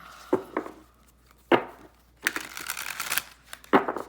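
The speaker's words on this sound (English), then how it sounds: "So it's a struggle sometimes shuffling these cards." Crisp slapping and riffling of tarot cards, a few sharp bursts then a longer rapid flutter, close by with no talking.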